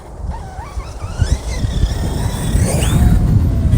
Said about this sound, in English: The wind would start blowing right when I was getting ready to get started.